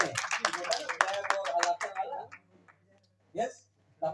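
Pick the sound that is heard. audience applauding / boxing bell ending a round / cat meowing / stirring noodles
audience applauding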